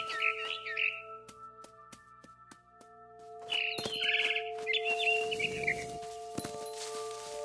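A frightened bird chirps in What Remains of Edith Finch, giving two short bursts of agitated tweets over sustained tonal game music.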